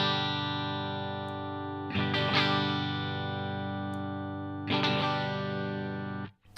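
Electric guitar through a Wampler Ego compressor pedal with its tone switch on the brightest setting: a long sustained chord, restruck twice, ringing evenly and alone before stopping abruptly near the end.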